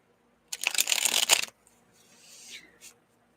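Tarot cards being shuffled in a quick riffle lasting about a second, followed by softer sliding and rustling as the deck settles, close and fairly clear.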